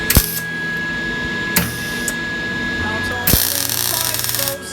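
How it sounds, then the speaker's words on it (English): Welding a small gap in practice metal during a wrecked 2017 Corvette Z06 rebuild: short crackling bursts of the welding arc, then a longer buzzing sizzle, with a voice talking alongside. "we're just gonna try to weld a little gap"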